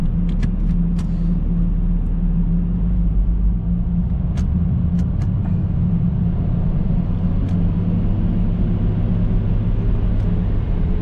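Nissan Patrol engine in third gear at about 2000 rpm on a dyno stand, a steady deep rumbling drone with low harmonic hum, close and continuous, a few faint clicks over it.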